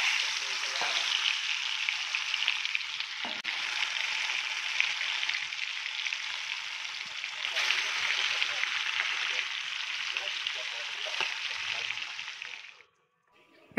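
Shol fish (snakehead) rubbed with salt and turmeric, frying in hot oil, giving a loud, continuous close sizzle that holds steady for many seconds before abruptly cutting off near the end.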